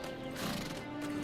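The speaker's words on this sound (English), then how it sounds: "A horse befitting only a king." Bucephalus, Alexander the Great's horse, gives one fairly soft, drawn-out neigh with a wavering whinny over about a second, alone with no talk.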